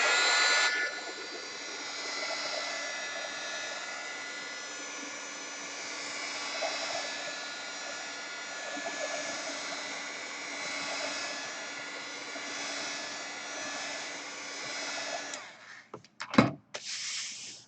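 A handheld heat tool blows hot air over fresh paint in a steady, loud whirring roar that holds level for about fifteen seconds, then cuts off and is followed by a few handling knocks.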